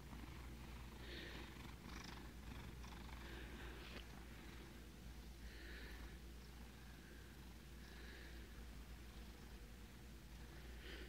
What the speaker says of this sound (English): Oh, are you a sleepy kitty?